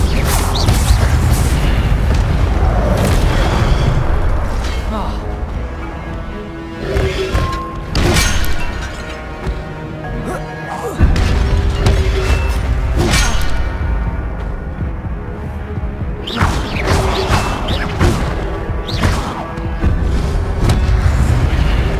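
Incendio fire spell blasts in Hogwarts Legacy, loud repeated bursts mixed with clanging and crashing impacts, rising and falling in waves across a long stretch of combat, with almost no voice.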